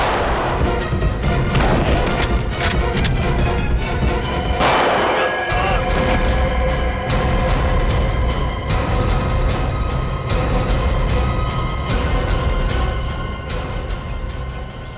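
Bursts of gunfire crack through a loud, dense commotion, with a sharp cluster of shots near the middle.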